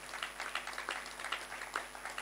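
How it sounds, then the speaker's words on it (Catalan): An audience applauds, a dense patter of clapping hands heard at moderate distance, steady throughout. "Si voleu aplaudir, aplaudiu"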